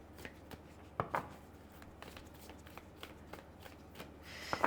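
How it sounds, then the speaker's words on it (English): Heart-shaped tarot cards are shuffled by hand in a series of soft, crisp riffling bursts, close and fairly quiet, with a louder flurry near the end. "They're hard to shuffle, these heart cards, heart-shaped cards."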